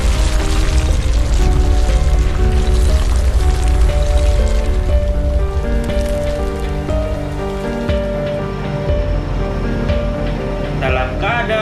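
Heavy rain pours onto surfaces around a moving KA-86 Malabar passenger train, a dense and loud steady patter mixed with tonal rumbling and hum from the train, unbroken for the whole stretch.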